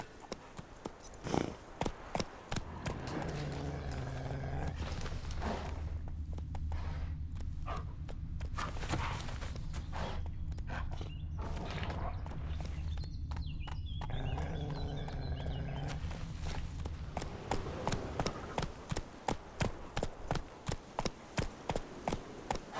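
Steady clip-clop of horse hooves at a walking pace, close by and rhythmic, with a brief whinny early on and an ambient backdrop from The Witcher 3.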